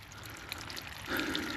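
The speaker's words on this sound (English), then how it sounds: "Looks like it's still water being pushed." Leftover water gushes and splashes from a camper's plumbing lines in a steady close pour that swells louder toward the end.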